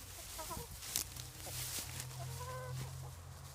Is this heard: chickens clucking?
yes